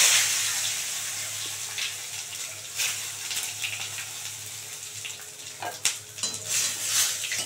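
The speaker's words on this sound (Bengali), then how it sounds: "এবারে সাদা জিরে, তোমার তেজপাতা, শুকনো লঙ্কা ফোড়নে দিয়ে দিলাম" Cumin seeds, bay leaf and dried red chilli tempered in hot white oil, a steady close sizzle and crackle with occasional sharp pops and clinks of a pan, no talk.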